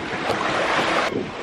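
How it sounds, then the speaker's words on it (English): Strong wind buffeting a microphone on a cruise ship deck at night, a loud continuous rushing roar with brief gusty swells and no talk. "there's a lot of wind on this ship right now"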